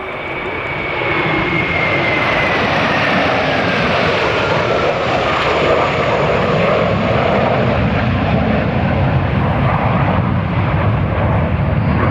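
Propeller-driven aerobatic display aircraft roar overhead in a loud, sustained drone with a sweeping engine tone that shifts in pitch as they pass, filling the whole stretch without a break.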